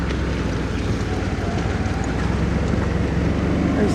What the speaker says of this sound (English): There's the tractor launch pulling out a boat out of the ocean.